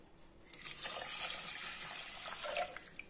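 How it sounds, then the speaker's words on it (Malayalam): Water pours steadily into a pot of horse gram porridge with crushed horse gram, a continuous splashing stream that starts after a brief quiet moment and runs close to the microphone with no talking. "നാല് കപ്പ് വെള്ളം ഒഴിക്കണം."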